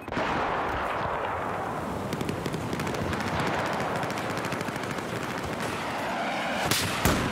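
Gunfire from the L115 sniper rifle in the video game Battlefield 4, heard within a dense, continuous barrage of battle noise that stays loud throughout, with a sharper crack near the end.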